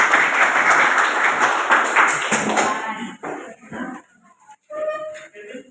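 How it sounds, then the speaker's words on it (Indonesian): A class of students claps together for about three seconds, a dense burst of hands that then breaks off, leaving scattered voices and small noises in the room. "Baik, tepuk tangan."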